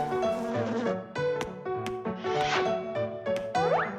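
A cartoon bee buzzes in a busy children's animation soundtrack, its harmonic drone wavering and swooping amid music and brief boings, loud and close.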